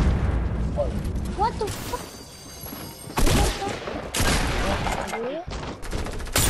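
Video game gunfire, including a pump shotgun, comes as loud overlapping blasts and bursts mixed with brief game noise, while a player exclaims over the shots.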